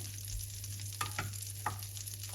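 Butter foaming and sizzling in a frying pan while making French toast, a steady soft crackle with a few brief sharper pops, close and alone.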